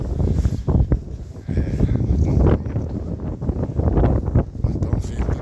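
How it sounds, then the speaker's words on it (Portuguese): Cold wind gusting outdoors in New York, a loud, rough rumbling buffet against the microphone that rises and falls throughout, with no clear talk over it. "não sei se dá pra vocês escutar o vento que tá fazendo"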